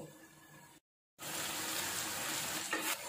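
Masala sautés in a pan, a steady close frying hiss that cuts out briefly to silence, then resumes louder and denser with faint stirring movement.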